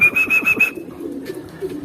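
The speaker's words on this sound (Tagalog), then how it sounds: "Ito na mga kalapatid, si Japan" Homing pigeons cooing close by in a loft, several soft rhythmic coos in the first half alongside a steady high whistle-like tone, then quieter cooing continues with faint background noise.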